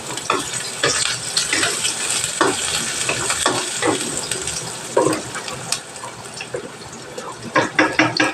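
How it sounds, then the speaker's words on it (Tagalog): Garlic and onion sautéing in a pan for a rainy-day sopas, a steady close sizzle broken by repeated scraping stirs, with no talking. "magigisa na tayo ng bawang sibuyas"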